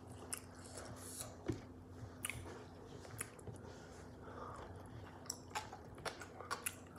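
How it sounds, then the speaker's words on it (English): Crunchy chewing of crab leftovers at close range, a run of sharp irregular bites and crackles over a steady low hum, with no talking. "That was crunchy."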